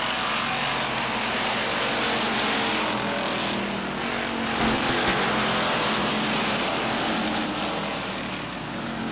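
Stock cars race at Beech Ridge Motor Speedway in 1992, a dense, constant engine roar from the pack holding loud throughout, with a brief sharper burst near the middle.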